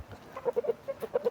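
Champion fighting rooster gives a quick run of clucks and short throaty calls, close and moderately loud, about eight bursts in a little over a second with no talking.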